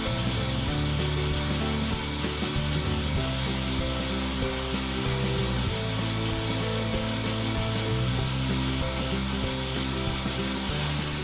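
A brake rotor turning on a brake lathe during a fine resurfacing cut, a continuous grinding, rasping rub with a low mechanical drone, steady and close with no pauses.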